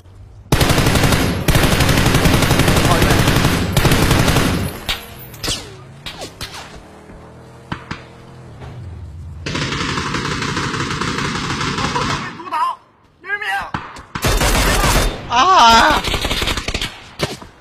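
Heavy automatic gunfire in a Chinese-language battle-royale shooter video game, long loud bursts in the opening seconds followed by shorter scattered volleys and thuds, with a player talking over parts of it.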